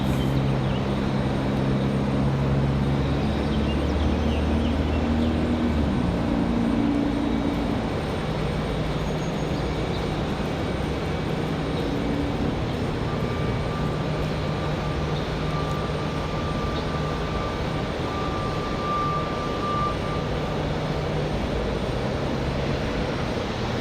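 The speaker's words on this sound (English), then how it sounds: "Air France coming across 540." Air France airliner flying over Raleigh-Durham International Airport on a windy day: a loud, broad engine roar that fills the whole span, heaviest at the start and easing slightly but steady throughout, with a faint whine appearing later.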